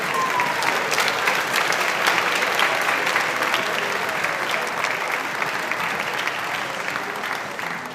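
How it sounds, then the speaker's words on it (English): Sustained audience applause at a high school spring band concert, honoring the concert band and its director; dense, steady clapping that fills the hall for the whole stretch and tapers slightly at the end. "Can we get one more round of applause for Mrs."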